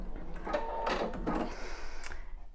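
Pfaff Expression sewing machine running its automatic thread cutter, a short close mechanical whirring and clicking in a few quick bursts, fairly faint, with no talk.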